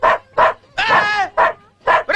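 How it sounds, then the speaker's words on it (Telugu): A dog barks in a short series of sharp, close woofs with a few whimpering notes, loud and alone with no one talking over it. "ఏమిట్రా కుక్క?"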